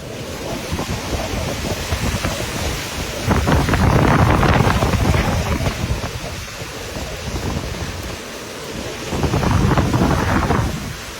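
Roaring typhoon wind and crashing storm surge fill the scene in Garchitorena, Philippines, with two louder surges of rushing water and gusts rising and falling; no voices.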